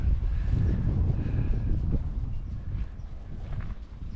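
Horse hooves clip-clop steadily beside a road in southern Oregon under a constant low rumble of wind buffeting the microphone, with no voices.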